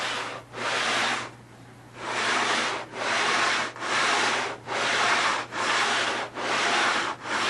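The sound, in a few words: sanding plywood edge with coarse sandpaper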